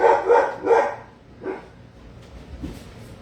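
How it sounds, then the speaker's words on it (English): A dog barks in the background, two loud close barks followed by a softer one and a faint yip as it fades. "Sorry about my dog in the background."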